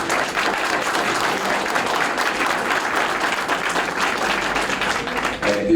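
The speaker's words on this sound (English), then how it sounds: "Can we give all of them a round of applause?" An audience at a candidates' meeting claps steadily, a dense, even round of applause lasting several seconds.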